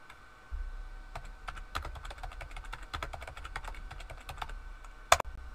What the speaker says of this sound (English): when I press down on the keyboard, it means I want to go down